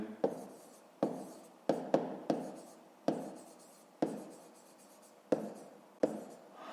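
Pen strokes on paper during a Ukrainian fifth-grade maths exercise: quiet, close scratching in about ten short bursts, each starting with a light tap, with no voices.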